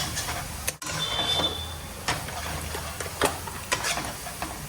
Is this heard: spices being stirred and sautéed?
yes